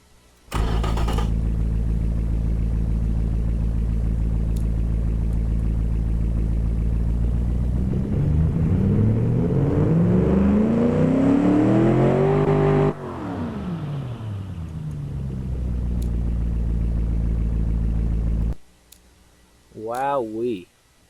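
A car engine in the Automation video game, rated at 413 horsepower and 418 pounds of torque, cranks to life, idles with a deep hum, then revs up and back down before shutting off, followed by a brief voice.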